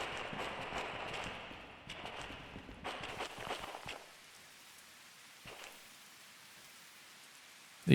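Rain falls steadily inside a tunnel in the train game Derail Valley, a dense patter with a few sharp knocks, then thins to a faint hush in the second half.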